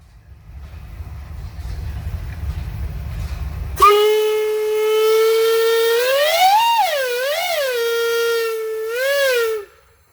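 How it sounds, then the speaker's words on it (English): A loud steam traction engine whistle sounds a long note that swoops up and down in pitch like a wolf whistle, after a stretch of low engine rumble, at a steam engine parade. "That's called a wolf whistle."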